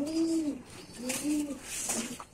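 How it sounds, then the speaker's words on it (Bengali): Black gola pigeon chicks coo close by in three soft, rounded coos spaced across a couple of seconds, with faint background rustle. "এই যে বাচ্চাগুলো কালো গোলা কবুতরের বাচ্চা"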